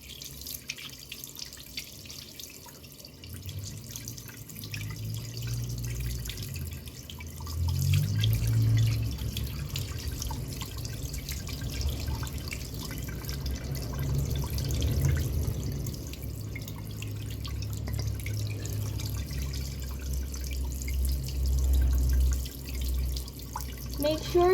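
Water runs from a sink faucet during surgical-style hand washing from fingers to elbows, a steady moderate splash and trickle that swells midway and continues throughout, with faint background noise.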